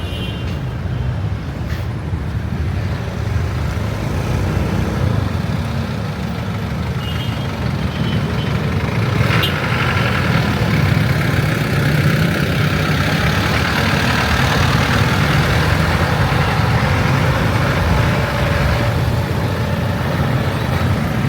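City street traffic in Cagayan de Oro during a storm, with trucks, jeeps and buses idling in a steady loud rumble, and a faint reversing beep showing up now and then against the constant engine drone.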